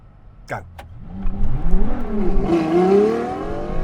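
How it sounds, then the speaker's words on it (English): A Ferrari LaFerrari accelerates hard from inside the cabin, its engine note climbing steadily and loudly in pitch, with an excited voice exclaiming over it near the start. "First time in a LaFerrari, I'm just gonna cane it"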